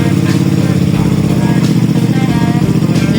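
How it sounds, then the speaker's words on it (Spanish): A motorcycle engine runs steadily at idle, a continuous low throbbing rumble close by with no pauses. "enciendes la moto."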